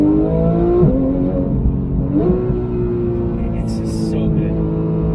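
Porsche GT3 engine with individual throttle bodies revving hard on throttle inputs, a loud, steady howl heard from inside the car with pitch rising and dipping as the throttle changes, plus brief higher mechanical whines near the end.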